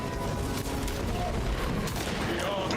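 Dense gunfire fills the Warhammer video game battle, a continuous rattle of shots without pause, with players' voices partly mixed in.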